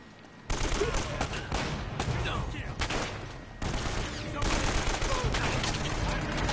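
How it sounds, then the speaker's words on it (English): Rapid submachine-gun fire in Uncharted: Drake's Fortune, dense overlapping bursts that run nearly continuously and loudly, with a brief lull midway, under occasional talk. "use those fucking SMGs"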